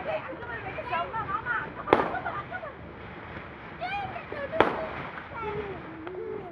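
Diwali firecrackers bursting outdoors, two sharp loud cracks about three seconds apart amid crackling and hissing, while children and adults talk in the background.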